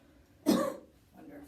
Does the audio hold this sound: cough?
yes